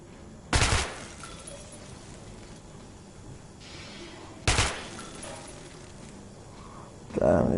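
A weapon in the Metro video game fires in three short, sharp bursts spaced a few seconds apart, each a loud crack with a brief tail that stands out over quiet, hissy background.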